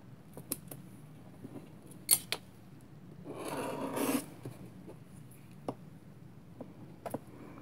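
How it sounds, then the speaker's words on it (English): Scissors cut through two stacked layers of polymer clay in one sustained snip, a soft crunching rasp lasting about a second, with faint handling clicks before and after in an otherwise quiet room. "And then I'll cut both layers at the same time."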